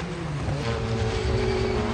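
Porsche race cars at the very start of the 1996 Le Mans 24 Hours, engines droning steadily and loudly as they pass, with a continuous roar and no talk.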